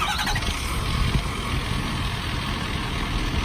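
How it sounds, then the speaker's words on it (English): A 2012 Ford F550 bucket truck's 6.7 turbo diesel engine turns over and settles into a steady, smooth idle, heard close by and alone for several seconds. "So now I'm going to have Chris go ahead and start it up, and you can listen to it run."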